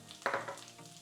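Chopped curry leaves dropped into hot oil with mustard seeds, fennel and dried chillies for a kale stir-fry, a brief, quiet burst of sizzling spitting that fades within a second, with no talk.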